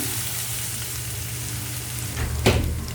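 Garlic dropped into hot oil for mapo tofu, a quiet hiss that rises abruptly into a louder sizzling burst near the end.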